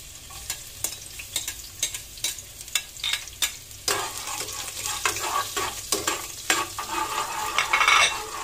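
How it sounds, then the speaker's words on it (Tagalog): Garlic drops into hot oil in a home kitchen pan, giving a close, crackly sizzle broken by repeated scraping stirs of a spatula, the frying hiss growing louder and denser toward the end. "Mainit na po siya. Lalagay na natin yung yung bawang."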